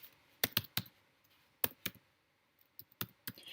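Computer keyboard typing in a quiet room, sharp isolated clicks in short bursts with gaps between them, close and clear, with no voices.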